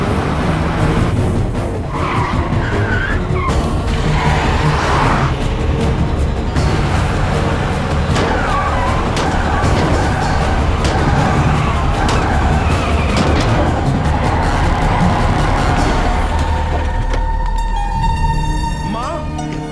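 Car with failed brakes speeding and skidding, loud engine roar and tire squeal running continuously with scraping and rumbling, mixed with voices and dramatic film sound effects.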